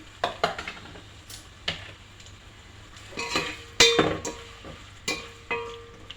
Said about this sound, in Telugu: ఆనియన్స్ ఇవి బాగా బ్రౌన్ కలర్లో వచ్చేంత వరకు ఫ్రై చేసుకోవాలండి.